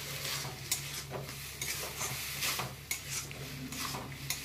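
Raw papaya and pumpkin sizzle quietly in a pan as leftover water cooks off, with a soft steady fry under repeated scraping and stirring clinks of a spatula against the pan.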